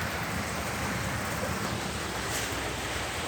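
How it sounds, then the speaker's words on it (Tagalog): Steady heavy rain pouring down, a dense, continuous hiss of drops drumming on surfaces, loud and unbroken throughout. "Ulan pa man, pasilong sa dire."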